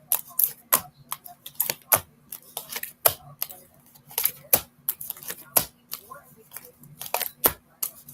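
Tarot cards being shuffled by hand, a close series of crisp snapping and riffling flicks in an uneven rhythm, with soft voice in the background.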